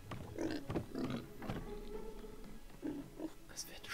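Grunting pig oinks from the LEGO The Hobbit video game, several short snorts spread across the moment, mixed under game background sound and some speech.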